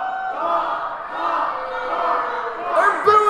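A wrestling crowd at a live show boos loudly and continuously, a dense roar of many voices with a few sharper shouts near the end.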